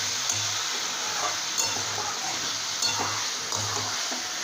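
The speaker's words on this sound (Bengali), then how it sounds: "এবার এই মশলাটা দিয়ে সমস্ত সবজি খুব ভালো করে খানিকক্ষণ কষিয়ে নিতে হবে" Mixed vegetables cook in a pan with a prepared spice paste, frying in a steady close sizzle while a spoon scrapes and stirs in a few soft periodic strokes with no talk.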